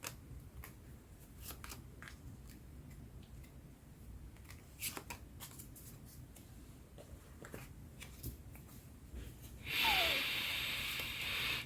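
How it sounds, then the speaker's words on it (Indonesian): Tarot cards are shuffled and laid out one by one, soft papery flicks and taps near the microphone over a quiet room, ending in a brief louder rustle. "aku akan buka 5 kartu."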